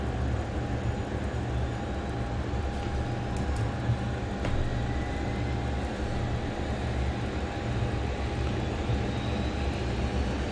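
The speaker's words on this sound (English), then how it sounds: "engine 2 start." A simulated aircraft turbine engine spins up during a start sequence in a flight simulator, a steady broadband roar and hum with a faint rising whine, continuous and even throughout without talk.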